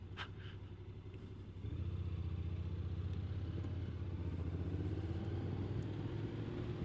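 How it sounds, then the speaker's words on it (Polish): A car drives past on a sandy country road, a steady low engine rumble that grows louder partway through and holds close, with no talking. "Niech se ten samochód dojedzie"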